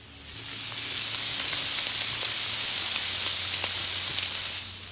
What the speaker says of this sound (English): Sizzling away beautifully.